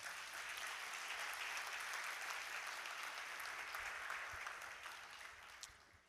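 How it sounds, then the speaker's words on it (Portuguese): A church congregation claps for the Lord during a Portuguese-language sermon, a steady dense wash of applause that holds evenly and fades slightly near the end, with no talking over it. "Você podia aplaudir ao Senhor por isso."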